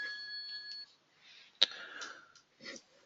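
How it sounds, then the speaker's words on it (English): A mobile phone rings during an online user group meeting. A short, thin electronic ringtone sounds first, followed by faint scattered handling noises and a sharp click. "That mobile ringing"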